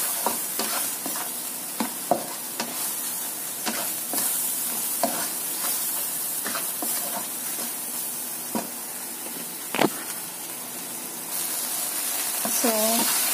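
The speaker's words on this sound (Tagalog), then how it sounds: "Haluin lang ang haluin." Prawns in tomato sauce cook in a pan with a constant bubbling sizzle, broken by repeated stirring scrapes and a few sharp clicks of a spoon against the metal.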